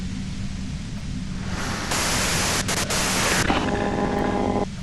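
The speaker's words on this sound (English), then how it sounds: "you can do it through the white noise." Radio static hiss from the video game Disco Elysium, a steady broadband white-noise wash that swells louder midway and carries a faint tonal hum beneath it, with no speech.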